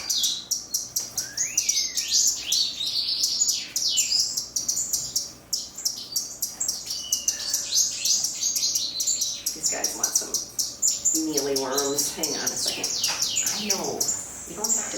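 A chorus of birds chirps and tweets continuously inside an aviary in winter, with some cooing calls partway through and occasional human speech underneath.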